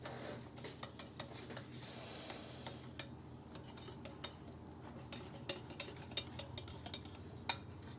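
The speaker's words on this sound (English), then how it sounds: "we're going to add the butter to the batter. And mix it as soon as it gets into it." Melted butter being whisked into crepe batter in a bowl, a steady run of quiet, irregular utensil clicks and taps against the bowl over a low background hum, with no talking.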